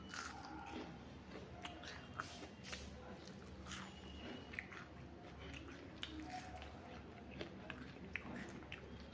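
Someone bites into and chews crispy ulundu vadai, a fried urad dal fritter made with added rice flour, producing faint, close crunches at irregular intervals over a quiet room background.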